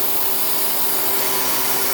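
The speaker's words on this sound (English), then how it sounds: "So we released the vacuum." A Harvest Right freeze dryer lets out its vacuum with a steady, loud, broadband hiss that runs unchanged throughout, with no voices over it.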